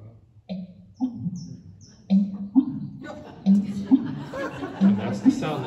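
A bittern's call played back from a recording at a garden club bird talk, a series of low, hollow, pumping notes repeating in a rough rhythm, heard alongside bits of chatter and laughter from people nearby.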